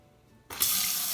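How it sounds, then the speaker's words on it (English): Kitchen faucet opening after the hot water supply is turned back on under the sink: near silence, then a sudden rush of running water that settles into a steady bright stream. "I'm gonna go back underneath and turn my hot water back on"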